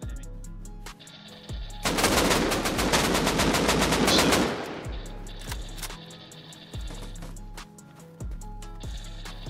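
Automatic gunfire in the survival game Rust during a raid, a dense sustained burst of rapid shots for a couple of seconds followed by scattered single and short-burst shots, loud and close.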